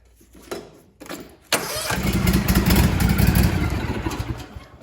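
A Husqvarna zero-turn riding mower engine cranks with a few short starter bursts, then catches and runs at a steady, loud, close idle.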